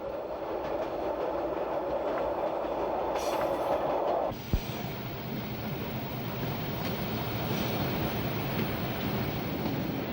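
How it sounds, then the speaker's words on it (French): An X 97050 railcar runs downhill on a steep grade through a chestnut grove in Corsica, giving a steady rolling rumble and wheel noise, with a brief change and a single sharp knock midway. "L'autorail plonge dans la pente de 30 pour 1000 et dans la châtaigneraie."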